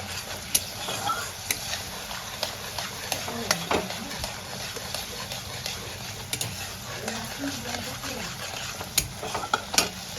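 Masala for a shrimp curry being sautéed and stirred in a pan, a soft continuous sizzle with scattered scraping clicks of a spatula against the metal, fairly close and steady.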